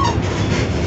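The Serayu passenger train rolls along the rails between Purwokerto and Jatinegara, heard from inside as a loud, steady low rumble with a broad rushing roar and no voices.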